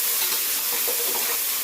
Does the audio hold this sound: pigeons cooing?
no